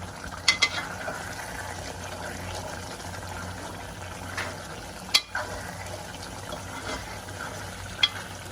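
Liver frying in a hot pan produces a steady, soft sizzle throughout, with a few sharp clinks and taps from stirring.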